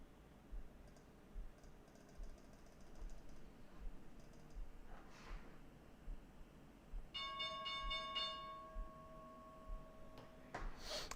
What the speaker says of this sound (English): All right, there's the opening bell here in the US.